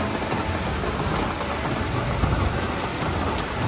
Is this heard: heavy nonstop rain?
yes